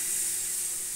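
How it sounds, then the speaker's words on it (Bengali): Rotis frying one at a time in a pan give off a steady, close sizzling hiss that holds evenly through a brief moment, with no talk. "দেখো গোলা রুটিগুলি আমার ভেজে নিচ্ছি একটা একটা করে।"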